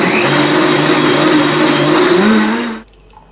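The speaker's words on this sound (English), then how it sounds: "Just blend this on high for 20 to 30 seconds" A blender runs on high, whirring a sweet-biscuit smoothie in a loud, steady roar with shifting pitch, then cuts off abruptly, leaving near silence.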